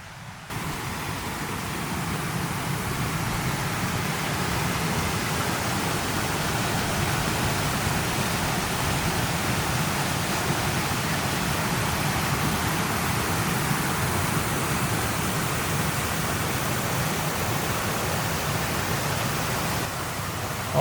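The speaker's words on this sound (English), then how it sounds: "I heard a creek over here, and I want to go check it out" A woodland creek flows steadily nearby, a dense, unbroken rushing wash of water that stays loud and even for the whole stretch, with no voices over it.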